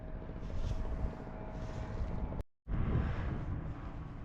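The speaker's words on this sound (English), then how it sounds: "So this aeroplane, the World War I aeroplane or whatever, is actually coming into land." A World War I aeroplane coming in to land at an air show in Montrose, Scotland, a steady droning engine with wind buffeting the microphone, broken by a brief cut.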